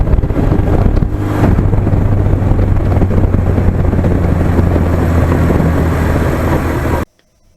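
A 41-year-old Suzuki GS1100E motorcycle, original owner, rides at steady cruising speed, its engine drone blended with heavy wind rush for about seven seconds before cutting off abruptly.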